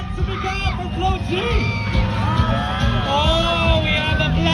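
A dense outdoor crowd at a music fest with a car drifting show cheers, whoops and shouts continuously, with many overlapping voices, high excited yells and a general babble that stays loud and close throughout.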